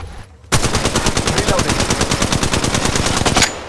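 Sustained rapid automatic gunfire in the mobile battle royale game Apex Legends Mobile, loud and close, a continuous burst of about three seconds that stops abruptly.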